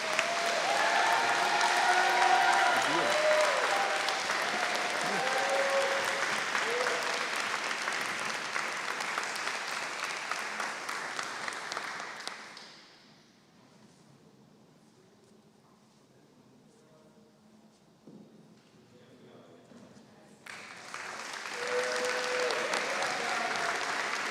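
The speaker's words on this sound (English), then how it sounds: "Please join me in giving a round of applause for these wonderful students." Sustained, loud audience applause fills a school board of education meeting room to honor students, fades to near silence for several seconds, then a second round of clapping rises again toward the end.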